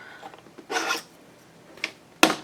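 Scoring tool drawn along paper on a scoreboard to score half-inch fold lines for journal pockets: a few short, dry scraping strokes, with one longer rasp early, a brief one later and a sharp scrape at the end, fairly close and quiet.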